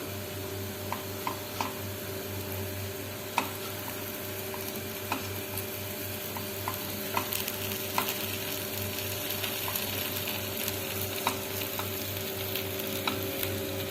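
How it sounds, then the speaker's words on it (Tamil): Kara kuzhi paniyaram batter frying in a paniyaram pan over a medium flame, giving a steady, close crackle with scattered sharp pops and ticks throughout. "அடுப்பை மீடியம் ஃப்ளேமில் வச்சு நல்லா வேக வைக்கலாங்க"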